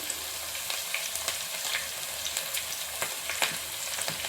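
Curry leaves, green chillies and onions fry in hot oil for a Telugu fish curry, giving a steady close sizzle with small crackles and occasional stirring scrapes and no talk.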